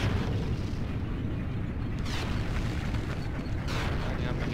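A tank cannon fires in the World War II shooter Heroes & Generals from a 38t Hetzer tank destroyer, a heavy booming blast with a rumbling explosion and a second burst later, over constant loud battlefield noise.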